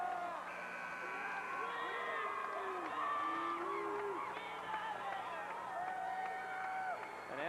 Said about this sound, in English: you'll see a round of applause for Jay Idnes.